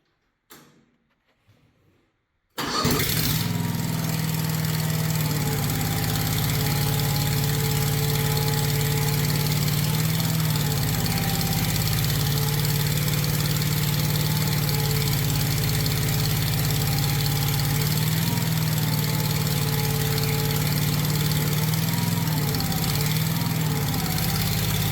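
A mini skid steer's freshly repowered engine starts up and settles into a loud, steady idle with a rough, knocking drone that runs unbroken for over twenty seconds after a short quiet lead-in.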